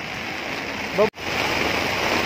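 Heavy rain pours steadily and loudly outdoors during a walk home, a dense broadband wash with a brief voice and a momentary dropout partway through.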